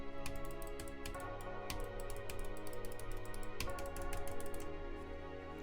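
Rapid Trigger computer keyboard being typed on, a steady run of close, crisp key clicks and clacks with irregular rhythm and a few heavier strokes, carrying on throughout with no talking.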